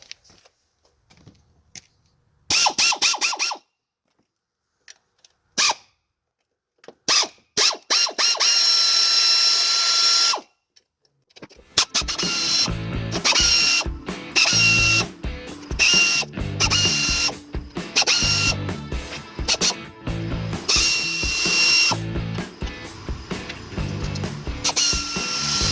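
A hand ratchet loosens a bolt on the CVT cover of a Suzuki Vinson ATV, first in short clicking bursts separated by pauses, then in long rapid runs of loud, close pawl clicks.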